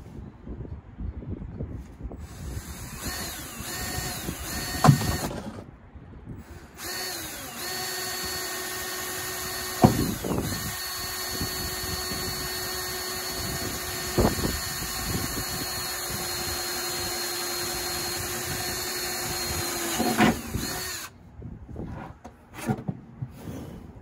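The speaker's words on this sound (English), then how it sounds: "you don't wanna drill farther than you need to, just enough to get through" A power drill bores holes through the sheet metal of a pickup truck bed, with long sustained whining runs at close range broken by short pauses and a few sharp knocks.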